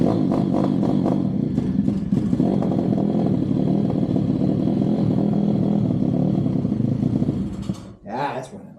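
A pit bike engine runs roughly just after a carburetor install, a close, loud, uneven buzzing idle with ragged blips that fades near the end, where a short voice cuts in.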